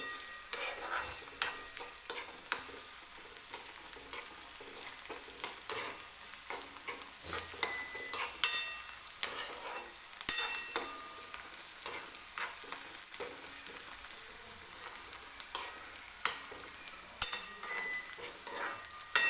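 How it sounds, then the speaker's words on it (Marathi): Onion frying in a pan for dal kanda, a steady close sizzle broken by frequent sharp clinks and scrapes of a spoon stirring against the pan, with no talking. "मिनिटभर व्यवस्थित भाजून घेऊया कांदा आपण"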